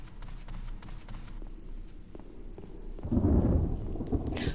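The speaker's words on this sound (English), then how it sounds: "Ah, thunder." Thunder rolls in the distance outdoors, a low rumble swelling and peaking partway through over scattered rain taps and light background noise.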